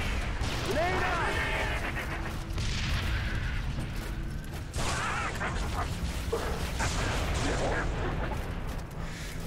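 Grenade explosions and rapid gunfire from a Halo 3: ODST Firefight match, a dense continuous barrage of blasts and shots with players talking over the chaos.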